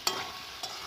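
Spice paste and potatoes are stirred in a pan for katla fish curry, two soft scraping strokes of the spoon over a faint, steady sizzle, quiet and close.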